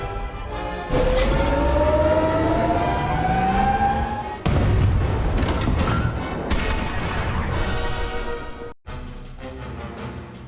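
Heavy battleship Wisconsin guns firing in the video game Project Stardust, loud booming blasts with sustained rumbling and whistling shell tones, one sharp cut near the end, no talk.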